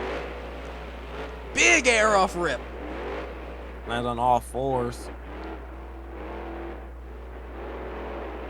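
Wild Side monster truck at a freestyle show in Snapdragon Stadium, San Diego, its engine revving in two loud rising bursts as it hits a step-up ramp, with an announcer talking throughout.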